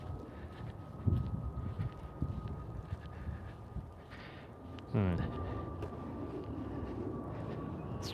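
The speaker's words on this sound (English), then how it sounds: "because you got airplane flying" A distant airplane rumbles steadily overhead outdoors, a low broad drone under wind and footsteps. A brief louder burst of noise rises partway through.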